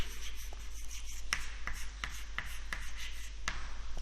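Pen or chalk scratches out algebra on paper or a board in quick, close strokes with brief pauses, faint and without speech.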